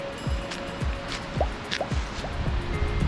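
Creek water flowing near a campsite at Davies Creek, with soft drips and gurgles over a steady wash, fairly close and without talk.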